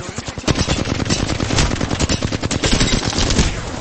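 Automatic weapon fire in Apex Legends rattles in rapid, loud, continuous bursts, with sharp individual shots stacked closely over nearly four seconds.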